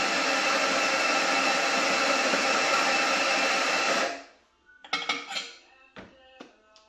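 A coffee grinder runs for about four seconds grinding beans for a La Pavoni lever espresso machine, a loud continuous whirring buzz that stops abruptly, followed by several sharp clinks and taps of metal and crockery.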